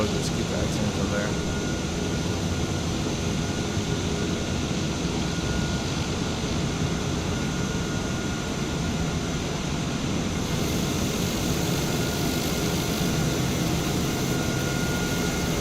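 Airliner taxiing in Microsoft Flight Simulator, with a steady broadband engine drone and hum running continuously under a voice talking throughout.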